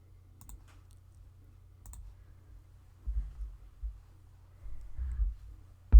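Sparse computer mouse clicks, a few sharp isolated taps spread apart over a quiet room background with faint low hum and a couple of soft handling thumps.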